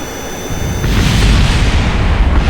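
A rocket engine at full throttle in Kerbal Space Program: a loud, broad roar that swells sharply after a quiet moment and keeps rumbling steadily, alone with no talk.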